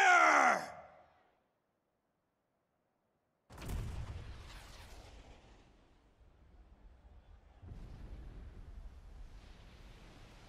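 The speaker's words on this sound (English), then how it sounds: "with a single blast of Junon's famous cannon" A single heavy blast from Junon's famous cannon in Final Fantasy VII Rebirth, a deep booming burst after a short silence, followed by a long rumbling decay and lingering low roar.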